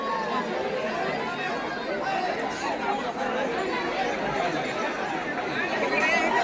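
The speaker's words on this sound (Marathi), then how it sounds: "इथं गर्दीमुळे आवाज खूप जास्त येतोय" Dense crowd chatter at Jejuri temple near Pune, Maharashtra: a continuous loud babble of many voices filling the space, steady and close, with no single speaker standing out.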